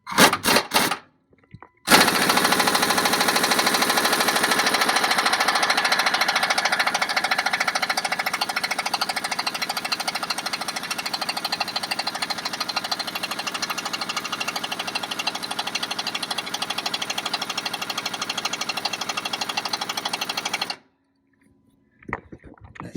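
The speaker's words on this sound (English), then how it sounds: "I'm gonna have to take the impact right here and take the bolt out from the back side" Impact wrench hammering at a track bar bolt on a 2009 Ford F250, one loud continuous rattling burst of about twenty seconds, close, after a few brief clicks.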